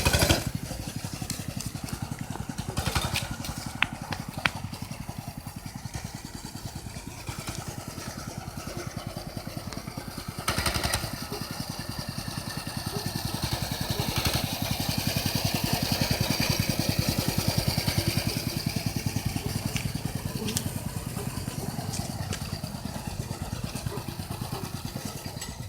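Small mini bike engine running steadily at close range, a dense mid-pitched buzz that holds through the whole stretch with slight rises in revs, no talk over it.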